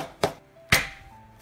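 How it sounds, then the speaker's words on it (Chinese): Knife strikes on a cutting board while chopping scallions and ginger to go with tofu: two sharp, separate chops, close and fairly quiet. "豆腐切2厘米的小方块，切点葱花、姜末、"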